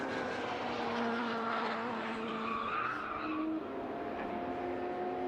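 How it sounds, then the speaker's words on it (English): Race car tyres squeal in a sustained, fairly distant way at Silverstone during a Radical Challenge Championship race, over a steady wash of engine noise. "Did hear a squeal of tyres in the background, which suggests that somebody might have had a problem"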